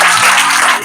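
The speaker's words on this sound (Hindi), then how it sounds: "तालियां बजाओ एक बार इसके लिए।" Loud, dense clapping from a group of students filling the space, a brief continuous burst of hands close by.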